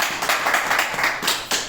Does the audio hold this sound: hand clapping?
yes